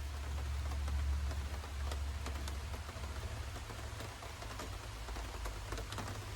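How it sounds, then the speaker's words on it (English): Rain falls steadily outside, a constant hiss of drops with a low rumbling undertone, heard alone and fairly soft throughout. "We're getting some rain."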